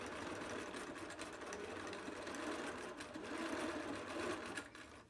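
A sewing machine runs continuously while stitching elastic onto fabric face masks, with a steady, fairly quiet mechanical whir and rapid needle chatter and no talking over it.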